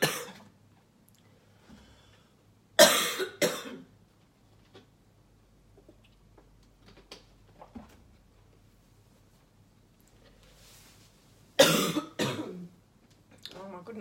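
A woman indoors in a warm room coughs in two loud, sharp bursts several seconds apart, each a quick cluster of hacks, with quiet breathing and small movements between them.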